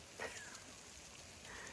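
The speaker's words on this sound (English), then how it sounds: "It is coming down really hard." Steady heavy rain hiss falls continuously on a trail, with a faint patter of drops and no voices.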